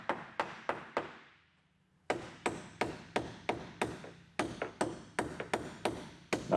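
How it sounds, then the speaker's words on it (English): Hammer blows knock a wooden support into place on a homemade aerial lift, sharp close strikes in a steady rhythm, a brief pause, then a longer run of evenly spaced hits with a few quicker doubles. "Actually, used a hammer for this one."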